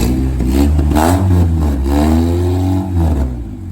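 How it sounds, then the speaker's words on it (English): A Honda Civic EK with a forged B16A engine revs through a new exhaust: a loud, close engine note with a raspy drone that climbs and falls in pitch over several seconds, then eases off near the end. "You gotta start that up before I leave."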